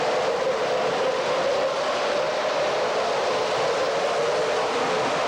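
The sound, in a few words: model Nickel Plate Road freight train running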